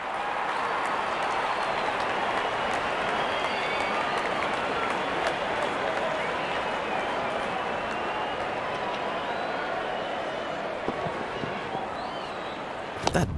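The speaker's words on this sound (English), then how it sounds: "Wonderful 50 and the crowd applauds." A cricket stadium crowd applauds after a batsman's fifty, a dense, steady roar of clapping and cheering that carries on evenly throughout.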